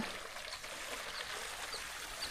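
Steady rushing water pours continuously from a borewell pipe, a broad even hiss with no pauses, close by and fairly loud.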